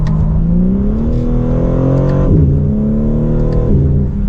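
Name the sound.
sports car exhaust accelerating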